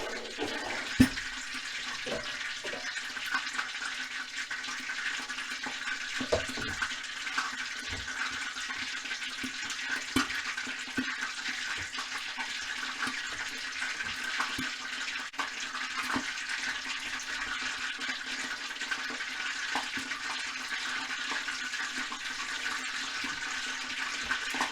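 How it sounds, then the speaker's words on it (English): A pork leg for crispy pata fries in hot oil in a covered pot, giving a steady, dense sizzle scattered with small pops and sputters throughout, close and constant without voices. "You hear it popping and sputtering."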